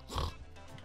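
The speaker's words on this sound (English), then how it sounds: "You're beautiful piggies." Pigs in the Farming Simulator game let out a short, faint grunt and snort, a single brief burst close by.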